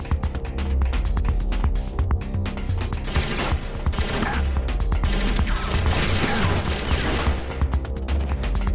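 Gunfire in the video game Metal Gear Solid: The Twin Snakes, with dense, rapid bursts of sharp shots and clattering impacts running continuously at steady loudness, with no talking.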